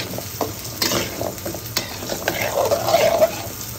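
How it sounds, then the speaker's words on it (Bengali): Washed taro (gathi kochu) being stirred with spices in a wok, with a spatula scraping and clinking over a steady sizzle of frying. "তো ধুয়ে রাখা গাঠি কচুগুলোকে দিয়ে ভালো করে নেড়ে চেড়ে মশলার সঙ্গে মিশিয়ে নিতে হবে।"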